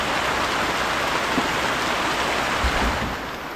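Strong outdoor wind roars as a steady, loud broadband rush, easing slightly toward the end, with no voices heard.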